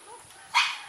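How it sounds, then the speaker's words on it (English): Dogs bark in the background at a home where a bamboo house is being built, one short burst rising sharply midway through a fairly quiet moment. "You hear the dogs barking like crazy in the background."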